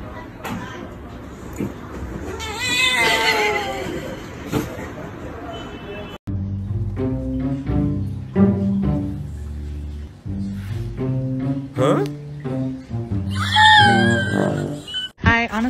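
A cat yowls and meows in drawn-out, wavering cries near the start and again near the end, with a person talking in between.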